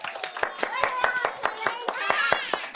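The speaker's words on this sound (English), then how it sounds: "Everybody give Ben a nice big clap." A children's audience clapping at a kids' magic show, a quick, uneven patter of many small hands close by, steady for a few seconds, with children's voices chattering underneath.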